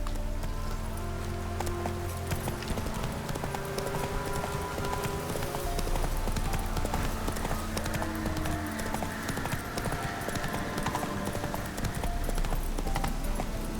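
Hooves of Roach, a horse in The Witcher 3, clip-clop in a steady trotting rhythm throughout, moderately close and quiet, with a low ambient bed of outdoor game sound.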